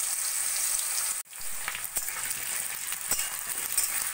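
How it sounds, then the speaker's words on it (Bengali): Diced potatoes fry in hot oil tempered with cumin seeds, bay leaf and cardamom, giving a close, steady sizzle with a brief dip and a few stirring scrapes. "আলুগুলো একটু ভালো করে ভাজা ভাজা করে নেব।"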